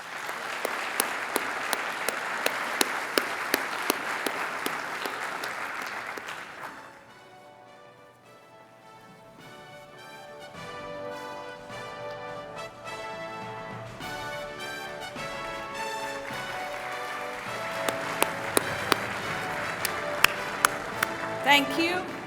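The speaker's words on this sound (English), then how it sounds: "Let's give them a warm round of applause." Audience applause fills a United Nations Public Service Awards ceremony hall as a delegation heads to the stage, with loud, dense clapping that dips midway while music plays, then swells again.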